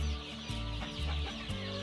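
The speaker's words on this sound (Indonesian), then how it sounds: "Inilah rupa anak-anak ayam Arab dan juga sebahagian daripada anak-anak ayam kampung organik yang sedang memakan makanan sekarang ini" Young Arab and organic village chicks on a farm clucking while feeding, a busy cluster of short repeated chirps and clucks close by.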